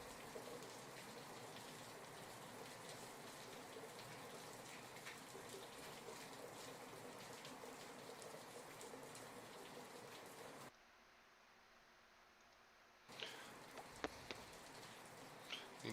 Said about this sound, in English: Complete with rain sounds.